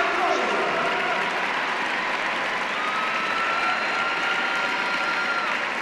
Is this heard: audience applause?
yes